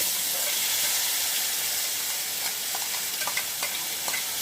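Ground spice paste with chilli goes into a pan over bay leaves in hot oil, frying with a steady dense sizzle and hiss, and a few spoon scrapes and stirring taps come later on.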